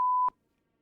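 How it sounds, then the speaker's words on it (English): A single censor beep sound effect in a game stream, a steady pure tone held for about a quarter second, then cut off into silence. "I got a censor beep now"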